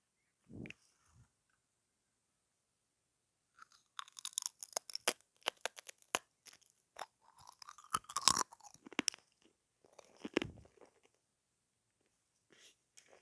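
Someone eating crunchy food close to the microphone, with irregular crisp crunches and chewing in bursts, some louder bites, and a brief soft voice near the end.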